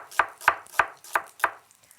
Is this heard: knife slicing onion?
yes